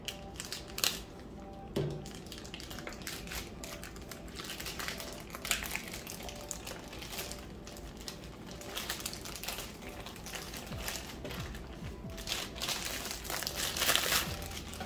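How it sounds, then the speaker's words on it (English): Plastic wrap around an Amazon Echo 4th Gen smart speaker crinkles and tears as a knife cuts it away, soft irregular rustling with small sharp crackles scattered through, close and quiet, no talking. "So it's just some plastic wrap around it. I'm actually just going to use the knife because it seems a lot easier."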